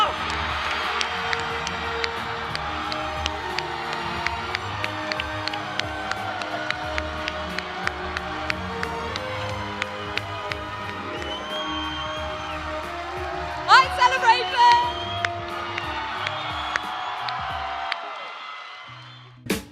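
Audience applause and cheering as Daisy Ridley takes the stage, a dense steady wash of clapping and crowd noise with a brief burst of louder whoops near the end before it fades.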